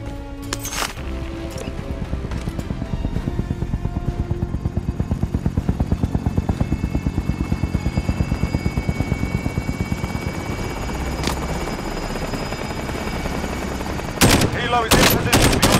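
A helicopter in the Call of Duty: Modern Warfare video game flies in with a loud, rhythmic rotor thump that holds steady, while sharp bursts of gunfire crack near the start and again at the end.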